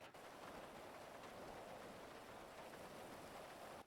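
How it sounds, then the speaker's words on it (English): Steady, even rain in a video game hisses continuously at low volume, a dense wash of drops with no other sounds. "It's raining"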